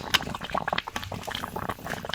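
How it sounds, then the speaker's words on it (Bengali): Water boiling in a covered pot for steaming prawns, a close bubbling and gurgling with irregular small pops and splutters, heard alone without talk. "দেখো খুব সুন্দর ফুটছে জলটা"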